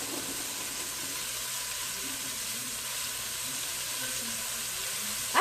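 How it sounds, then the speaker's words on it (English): Beef searing in a hot pan, a constant even hiss of frying that holds steady throughout, fairly quiet, with a brief clatter right at the end. "you're just getting a sear on the outside"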